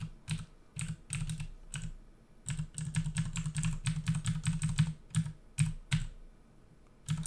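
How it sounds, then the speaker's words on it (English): Rapid bursts of computer keyboard typing, close and crisp, with quick clusters of keystrokes separated by short pauses and no talking. "I can type it out for you if you like."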